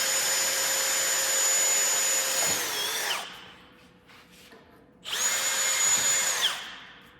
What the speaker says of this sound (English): Now we're going to drill out the grease circles.